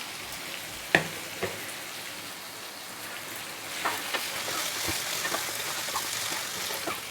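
Chopped tomato hits hot oil in a frying mutton curry, with a sharp clatter as it drops in, then a steady close sizzle and occasional stirring scrapes that continue throughout, with no voices.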